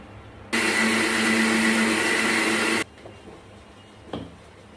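An electric grinder whirs loudly and steadily for about two seconds as it purees potato, tomato, onion and green chili into a paste, then cuts off abruptly, leaving quiet kitchen background with a small clink.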